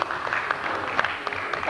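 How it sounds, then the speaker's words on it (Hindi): An audience claps at a 2005 farewell party at NUML, a dense burst of applause with sharper individual claps standing out, lively and sustained, with some voices faintly underneath. "वहां से भी धड़ाधड़ धड़ाधड़ तालियां आ रही है।"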